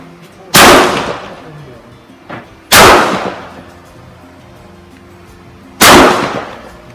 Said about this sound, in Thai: ยิงเป้าวงกลมทางด้านซ้ายมือนะครับพร้อมแล้ว เริ่มยิง